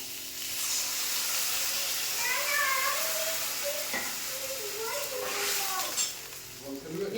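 Water is poured over fried pieces in a hot pan while cooking a sour mango dish with mustard paste. A steady sizzle and hiss swells and bubbles along with faint pan clatter, and a quiet voice murmurs briefly in the background.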